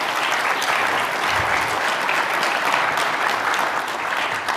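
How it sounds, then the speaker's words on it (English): An audience claps steadily throughout, a dense even wash of applause from a crowd. "Can we get a warm round of applause?"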